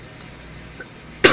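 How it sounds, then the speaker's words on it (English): A man with bronchitis gives one sharp, close cough that breaks the near silence at the end. "if I cough a lot during this video, I'm apologizing"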